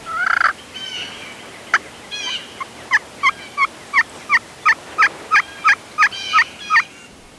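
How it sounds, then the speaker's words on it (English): A wild turkey on a mountaintop lets out a gobble, followed by a rapid string of about a dozen evenly spaced, sharp calls, moderately near against a quiet outdoor background. "Brad and Lake get taken by a surprise gobble on top of the mountain behind them."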